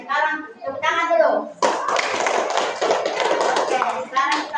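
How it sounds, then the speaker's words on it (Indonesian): A classroom of young children clapping hands together, a dense burst of claps lasting a few seconds, with children's voices heard before and after it. "Sekarang tepuk tangan dulu."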